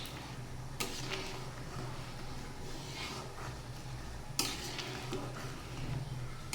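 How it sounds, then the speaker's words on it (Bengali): Moong dal simmering in a pot with soy chunks and vegetables, stirred with a steady low scrape over a continuous bubbling hiss, with two sharper clinks against the pot. "আর ডাল যত নাড়া হয় ডালের স্বাদ তত বেশি হয়।"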